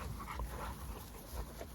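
A dog whimpers and yips softly in short, uneven bursts outdoors on a late night, fairly faint over a low rumbling background.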